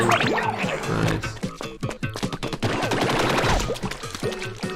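Enemy cannons blasting in the Splatoon video game, a busy run of loud repeated bursts and splattering pops layered with game effects and music.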